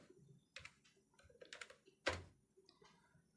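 Quiet keystrokes on a computer keyboard while typing in MS Word, irregular clusters of soft clicks with one sharper, louder tap midway, close and faint over low room noise with no voice.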